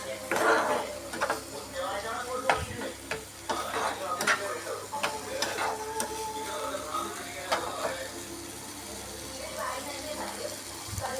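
Curry stirred in a pan with repeated spoon scrapes and clinks over a low sizzle, close and continuous, while someone talks throughout.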